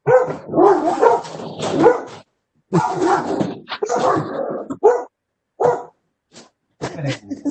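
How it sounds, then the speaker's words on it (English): Several dogs bark at a passing mail carrier, loud and close, in repeated bursts with yips and short pauses, spread through the whole stretch with no talking. "Sorry, there's a mailman coming."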